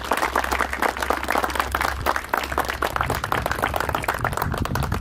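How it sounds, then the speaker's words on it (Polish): A school audience of young people applauds the organisers after a sports and defence event, with sustained, dense clapping close by that holds steady throughout, a low hum underneath. "Poproszę o brawa jako podziękowanie."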